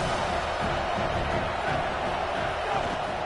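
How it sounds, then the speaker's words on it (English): A football stadium crowd roaring in a broad, sustained wash of cheering and shouting that fills the whole moment at steady loudness, with speech faintly mixed in. "These fans are going absolutely nuts."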